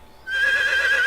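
A horse in the medieval game Medieval Dynasty lets out a single sustained whinny that starts abruptly and holds, clear and close.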